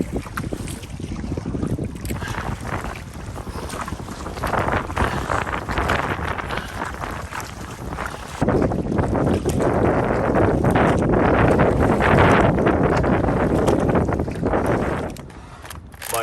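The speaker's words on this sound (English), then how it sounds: "Got some pretty strong headwinds today." Strong headwind gusts across a large lake in Algonquin Park during a solo canoe trip, buffeting the microphone with loud, rough roaring that swells and surges, with no voices.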